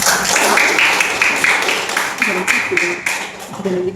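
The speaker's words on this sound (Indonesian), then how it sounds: "tepuk tangan dulu untuk kelompok 3" A classroom claps for a student group, uneven clapping from many students mixed with background chatter and voices throughout.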